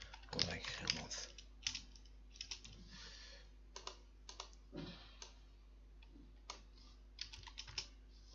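Bursts of computer keyboard typing, quick irregular key clicks in short clusters with brief pauses, close and fairly quiet against a low steady hum.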